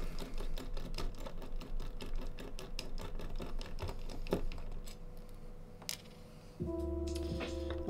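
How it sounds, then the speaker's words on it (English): The last screws being backed out of a custom mechanical keyboard case: rapid, regular clicking ticks close by, shifting near the end into a steadier buzzing hum, with no one talking. "I'm just going to quickly take the last two screws out."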